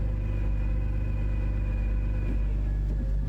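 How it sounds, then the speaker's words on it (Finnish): A steady, loud BMW E46 engine drone with a constant low rumble and a faint whining tone from worn driveshaft bearings, no voices. "Kytkimen nostaa ylös, kuuluu tollanen joku kuluneiden laakereiden ääni."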